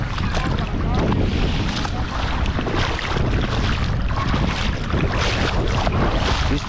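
Strong wind buffets the microphone at a beach, a constant loud roar with gusty rumble throughout and no clear talk.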